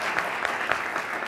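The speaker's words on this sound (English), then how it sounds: "So if I can have a round of applause for all the thanks for everybody who's put this on together." An auditorium audience gives a round of applause, an even, moderately quiet patter of many hands with a few sharper claps standing out.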